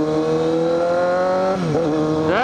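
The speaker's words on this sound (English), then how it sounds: "you can hear the exhaust a whole hell of a lot more" A car's exhaust note drones steadily and loudly up close, then dips briefly and climbs again in a quick rev near the end.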